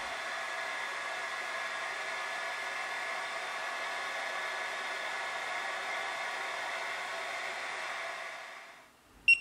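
A hair dryer blows with a steady whooshing roar for several seconds, changing settings, then cuts off with a short click.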